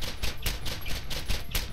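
Sustained automatic gunfire from a Borderlands video game weapon fires continuously with a 15-round magazine, producing rapid, evenly spaced shots at a steady loud level with no speech over it.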